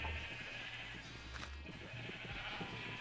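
Sheep bleating in a video game, a few short bleats over a steady droning background hum, moderately faint and with no talk over them.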